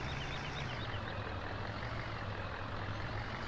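Truck backing up in Farming Simulator 17 during a winter repo job, a loud steady engine drone with a faint, regularly repeating reversing beep riding on top, with no talking.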